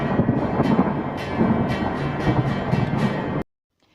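A heavy rumbling roar of thunder rolls continuously with bursts of crackle, loud and close, then cuts off abruptly to silence.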